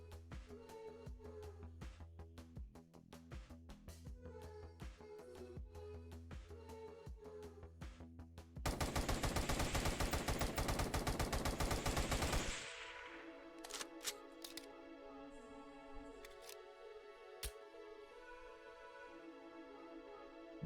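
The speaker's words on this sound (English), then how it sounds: "The way it sounds, the way it fires, everything about this RPD, it is such a good looking and fun gun" An RPD machine gun firing in the Roblox game After the Flash, with rapid bursts of sharp repeated shots and a dense sustained stretch of continuous fire, followed by a few isolated clicks and shots.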